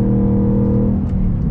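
A Ford Mustang Mach 1 with a naturally aspirated V8 drives along with a steady, loud, deep engine drone and rumble, close and continuous, with no talk.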